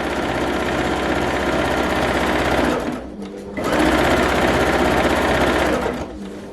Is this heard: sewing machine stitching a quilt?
yes